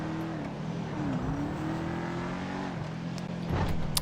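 A fast car's engine in GTA 5 Online, a steady loud drone with the pitch dipping and climbing through gear changes, then a harder surge near the end.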